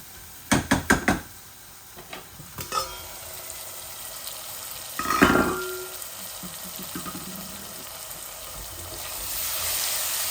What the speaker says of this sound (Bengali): এই দেখো আমার আলুগুলা বেলা করে ভাজা হয়ে গেছে